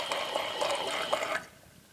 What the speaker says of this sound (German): Am besten lasst ihr nochmal Wasser drüber laufen.